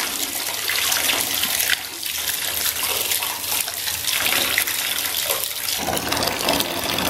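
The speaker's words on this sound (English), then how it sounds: "Oh, it's giving nice bubbles to my bath." A bathtub fills with water and Lush bubble bath, a loud, steady gush from the tap pouring into the tub that runs continuously.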